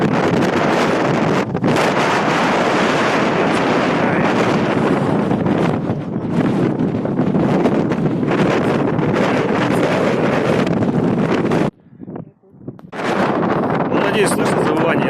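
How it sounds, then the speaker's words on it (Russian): Strong wind howls and roars through a gorge in Turkey, buffeting the microphone almost continuously at high volume, with a brief lull near the end. "Ветер просто жесточайший."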